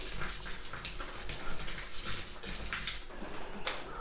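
Hydrogen peroxide solution poured onto houseplant soil in a pot, a steady close splashing and trickling flow that continues throughout without talking.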